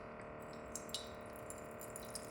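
Water pours from a JIMMY R9-UV countertop reverse osmosis filter into a mug, a steady soft hiss of flowing water with a few faint drip-like ticks near the start.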